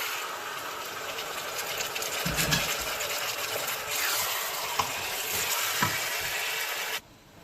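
Chicken pieces tipped into a hot pan with dry coriander and salt for shahi korma, sizzling and frying in a steady loud hiss with a few clunks and knocks, then cutting off abruptly near the end.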